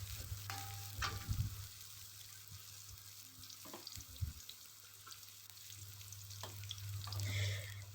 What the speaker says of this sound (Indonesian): Pertama kita panaskan minyak, lalu kita tumis bawang merah, bawang putih sampai warnanya agak kecoklatan